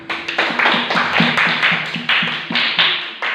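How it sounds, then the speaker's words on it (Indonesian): Classroom of students claps hands together in a quick rhythmic pattern, loud and close, with bursts of claps repeating in short groups and voices faintly chanting along underneath. "kita tepuk tangan"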